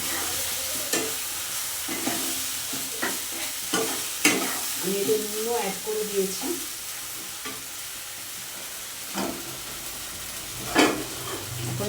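A spice paste fries in oil in a pan with a continuous low sizzle and occasional scraping and clacking from stirring, while someone talks briefly over the cooking sounds.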